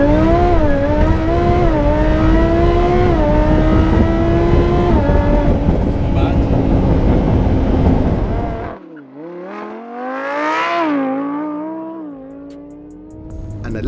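A 780 bhp supercharged Lamborghini Huracan launches hard from a standstill, its engine screaming loud and close through rising gear pulls, then dropping off and revving again more distantly as it pulls away.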